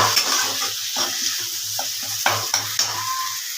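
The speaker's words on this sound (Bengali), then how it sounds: "এই যে আমি যে চিকেন কষাটা বানাচ্ছি" Chicken pieces stir-fried with spices in a pan for chicken kosha sizzle steadily while a spatula scrapes and knocks against the metal in repeated strokes, close and clear, with no speech.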